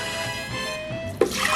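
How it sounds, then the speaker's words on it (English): One cup of water poured into a pot while making vegan hot chocolate, a steady liquid hiss with a sudden splashier surge near the end, close and alone without talk. "let us put in 1 cup of water"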